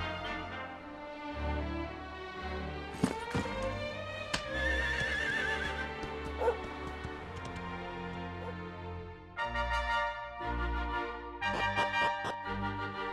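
Horse neighing and clip-clopping hooves from the video game Dragon Quest XI, with whinnies and hoofbeats over soft background music, heard clearly with no talking.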